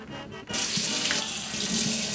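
A faucet turns on and pours water steadily over dyed yellow Crocs being rinsed in a sink, close, loud and continuous after a short quieter start.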